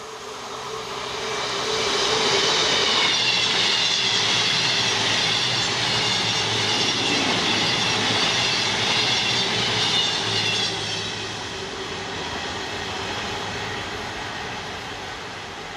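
A passing passenger train roars steadily, building to a loud rumble with a high whine, then easing off as it moves away.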